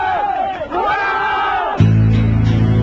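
Crowd cheering and shouting at the release of political prisoners, a brief roar of many voices that gives way to a steady hum.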